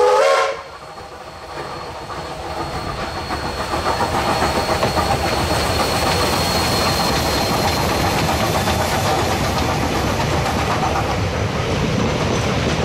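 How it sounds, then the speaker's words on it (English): Two New Zealand Railways steam locomotives, WW644 and 480, double-heading a passenger train on the Waiuku branch line at a reenactment, with a loud whistle at the start, then a sustained, steady chuffing and hissing roar, close and continuous. "WW644 and 480 double-headed a passenger train for the reenactment of the"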